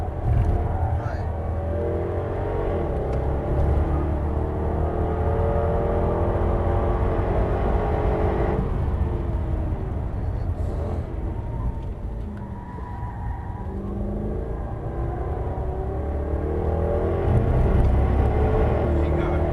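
Heavy Jaguar car driven on a race circuit, its engine droning and shifting in pitch as it brakes and accelerates, with in-car talk over the steady road and engine noise.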